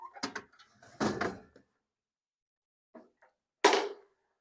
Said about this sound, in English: With the vault door open, go ahead and remove the cash box and put it aside.